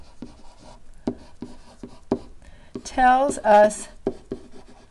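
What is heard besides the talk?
pen writing on paper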